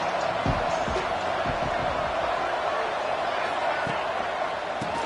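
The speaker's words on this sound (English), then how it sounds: "3rd down, and the crowd really getting into it" A football stadium crowd at a Virginia Tech versus Wake Forest game roars steadily on third down, a dense, loud wash of cheering with a few sharp thuds and claps standing out.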